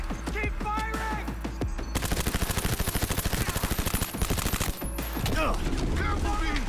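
Rapid automatic gunfire in the video game Cyberpunk 2077, a dense, loud stream of shots for about three seconds, framed by shorter bursts and combat sounds, with voices speaking around it.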